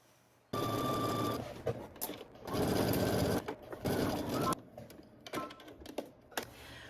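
Close-up whirring sewing machine stitching in several bursts, speeding up and stopping, with quiet pauses and small clicks between runs.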